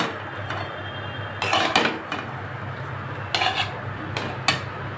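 Black chickpeas stirred and sautéed in a pot, with a spoon or spatula scraping and clanking against the metal in a few louder bursts over a steady low sizzle.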